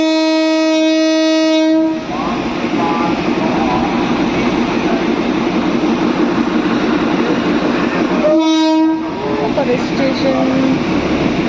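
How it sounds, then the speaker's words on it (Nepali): The Darjeeling toy train blows its horn, then rumbles and clatters along close by, sounding its horn again near the end. A voice can be heard speaking over the running train. "यो यस्तो चाहिँ हाम्रो दार्जिलिङ ट्रेन टोय ट्रेन छ साथीहरू।"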